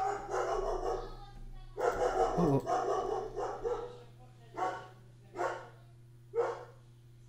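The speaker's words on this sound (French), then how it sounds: "je pense que vous entendez mon chien aboyer" A pet dog barks in short, separate bursts near the microphone, indoors during a Minecraft gaming session, with a few louder yelps spread across the clip while a person talks over the first part.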